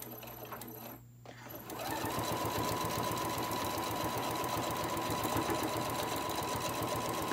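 Close up, a sewing machine stitches a lunch tote bag, starting after a brief pause and then running steadily and evenly at full speed to the end, with a back stitch at the line.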